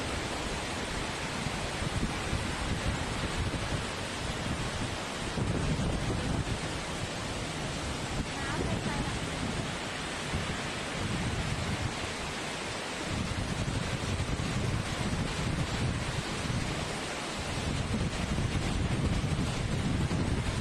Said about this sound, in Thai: ก็จะปล่อยภาพไหลไปเรื่อยๆให้คนได้ดูบรรยากาศของน้ำตกที่ตกลงมา